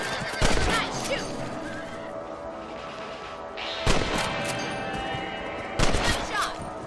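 Rifle shots ring out in the Red Dead Redemption video game, three sharp, loud reports spaced a couple of seconds apart, each with a rolling echo, while game dialogue and animal noises sit underneath.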